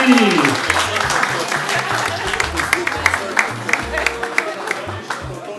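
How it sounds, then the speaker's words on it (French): Audience applauds at a baptism ceremony, steady clapping through the whole stretch with low music or voices murmuring underneath. "On applaudit, je vous en prie"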